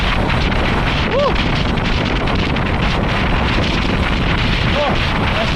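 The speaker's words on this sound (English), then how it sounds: "It's windy. We got crosswinds." Strong crosswind roars loudly and continuously against the microphone during a bike ride in Toronto, with brief voice fragments barely rising above the buffeting.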